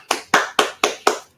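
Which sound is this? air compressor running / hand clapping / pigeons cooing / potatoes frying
hand clapping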